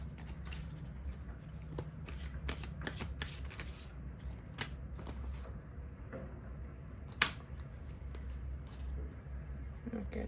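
A deck of tarot cards being shuffled by hand for a card reading, with repeated crisp riffling bursts and soft flicks, close and quiet, scattered irregularly across the passage.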